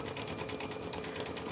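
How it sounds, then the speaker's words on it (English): An embroidery machine stitching an applique for a denim jacket, steady and close with a fast, even mechanical whir and rapid needle pulses throughout, no speech. "let the embroidery machine start again"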